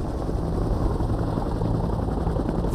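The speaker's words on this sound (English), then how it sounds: "Bell Helicopters Huey." A Bell Huey helicopter flies close by, its steady, loud rotor and engine roar filling the whole stretch with no break.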